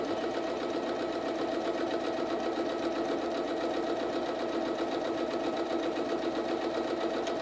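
Sewing machine running steadily at a short 1.8 stitch length while stitching along the outside edge of a quilt block, a continuous close whirring drone with no pauses and no talking.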